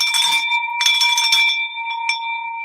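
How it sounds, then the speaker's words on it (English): A bell rung to celebrate a closed real estate deal, struck twice in quick succession and left ringing, bright and sustained, close and loud before it slowly fades. "let's ring the bell, Matt."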